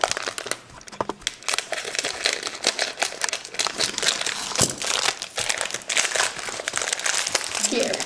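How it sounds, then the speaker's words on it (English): A plastic Twizzlers candy package crinkles and crackles up close as it is torn open, with dense irregular rustling and occasional voices underneath. "I'm gonna just open up this package"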